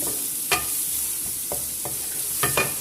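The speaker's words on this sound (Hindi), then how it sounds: "थोड़ा सा मैं इनको बस फ्राई करूंगी।" Vegetables for Arabic rice frying in a pan, a soft steady sizzle broken by several sharp stirring scrapes and clacks of a utensil against the pan, close up with no voices.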